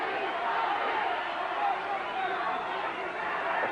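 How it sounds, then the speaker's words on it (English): Boxing crowd at a middleweight title bout in the final minute of an overtime round, a loud continuous roar and babble of cheering spectators urging a fighter on, steady throughout with commentary over it. "Crowd here urging Tony Thornton on."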